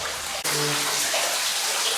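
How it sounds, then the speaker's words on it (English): Water running and splashing out of an ore chute inside the flooded Scranton mine, a steady close rushing pour that continues without a break. "You can hear the water running out of the ore chute"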